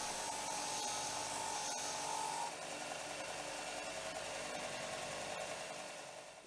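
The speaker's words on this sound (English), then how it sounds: "So just a bit of a chamfer on the sander and they'll be ready." A sander chamfering the ends of steel round bar gives a continuous high, grinding whine that runs steadily at low level, easing slightly partway through and tapering off at the end.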